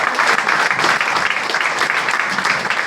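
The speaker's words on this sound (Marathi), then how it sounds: "जोरदार जोरदार टाळ्या झाल्या" Steady audience applause in a seminar hall, a thick, even roar of many hands clapping close and loud, continuing without a break for about three seconds.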